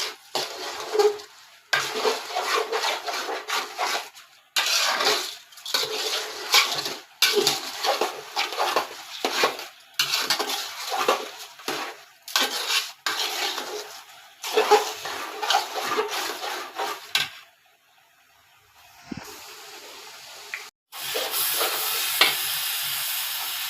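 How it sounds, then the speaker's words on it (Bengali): Rice being stirred in a cooking pot for biryani, heard as repeated bursts of scraping, rustling strokes with brief pauses between them and a quieter stretch near the end, close and with no talk. "চালটা দিয়ে অনবরত একটু নেড়ে চেড়ে দেবো।"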